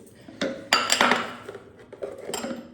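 A metal spoon set down in the bottom of a glass while making a Tunisian jwejem dessert, a few sharp close clinks and clatters with brief ringing, alone and without talk.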